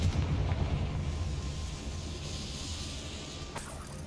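A Confringo blasting curse explodes in Hogwarts Legacy, a loud, deep boom that rumbles low and fades gradually over several seconds, with no voices.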